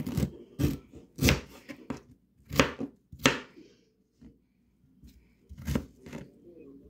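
Ginger is chopped with a knife on a board in a series of sharp, close chops at an irregular rhythm, with some quiet handling noise between the strikes.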